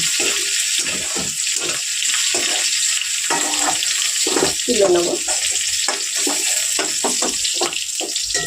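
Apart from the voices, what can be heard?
potato and pointed gourd frying in oil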